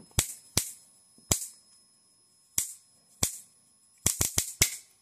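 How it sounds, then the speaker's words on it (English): Electrical arc on a high-power bifilar transformer, giving sharp irregular cracks and snaps, some isolated and some in quick clusters, over a faint steady hum. "see you can hear it kick"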